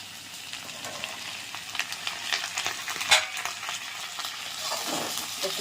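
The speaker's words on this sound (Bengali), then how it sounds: "এবার আলুটা ভাজা হোক একটু" Potatoes fry in oil in a pan for a Bengali dish, giving a steady close sizzle with scraping stir strokes that swell briefly near the middle and again toward the end.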